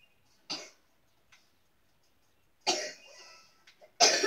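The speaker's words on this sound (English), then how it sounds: "I've been coughing all day." A person coughs in separate bursts: one short cough, a faint tick, then a longer cough and a final harsh cough, close and alone in a quiet room.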